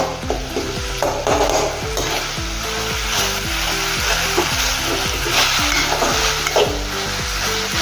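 Potato and eggplant being stirred in a frying pan, with a steady loud sizzle and repeated scraping strokes of a spoon against the pan in a regular rhythm, close up and without talk.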